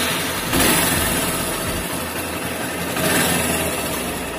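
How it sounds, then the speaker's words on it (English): Honda Hornet 160R motorcycle engine running steadily at idle, a loud, close, continuous mechanical hum with two brief swells in intensity, no talking. "So by connecting back this, the engine will start."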